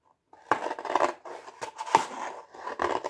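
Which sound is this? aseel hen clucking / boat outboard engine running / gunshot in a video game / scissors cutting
scissors cutting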